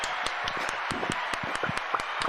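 Canned applause effect played on a livestream: steady, dense clapping throughout with sharp individual claps standing out, close and moderately loud, with no talk over it.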